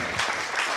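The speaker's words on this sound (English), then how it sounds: "a big round of applause for Kyle Shewfelt" Steady applause from an audience, a dense wash of clapping filling the whole moment without any break.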